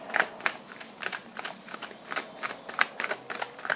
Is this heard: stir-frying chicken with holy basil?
no